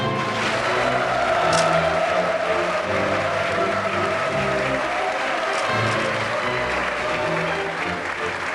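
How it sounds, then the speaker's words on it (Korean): Sustained applause from an audience at a Korean wedding ceremony, loud and steady throughout, with engine-like low rumble and crowd noise mixed beneath. "박수를 부탁합니다."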